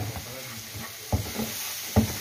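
Masala fried in a little leftover fish oil, a soft sizzling hiss with two distinct stirring scrapes of a spoon in the pan, close and fairly quiet, no talking.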